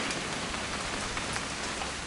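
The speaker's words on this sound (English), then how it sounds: "It's gonna rain the whole weekend, isn't it?" Steady rain in the video game What Remains of Edith Finch, a dense, even patter of drops on surfaces that holds at constant loudness throughout, with no voices.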